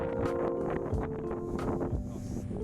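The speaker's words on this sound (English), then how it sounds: "It was insanely windy though, but worth it for the views." Strong wind buffets the microphone on the open top deck of a ferry near Wellington, New Zealand, a continuous low rumbling roar with gusty surges throughout and faint engine or water noise beneath.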